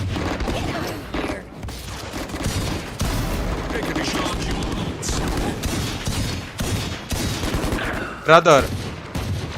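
Rapid gunfire from the video game Valorant rattles out in dense bursts and fusillades, loud and near, with voices speaking among the shots.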